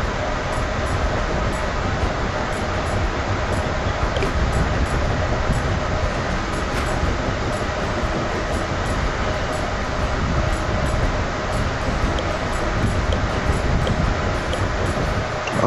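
Steady train running in the video game Tiny Rails, a continuous dense rumbling rail noise at even loudness throughout, with no talk over it.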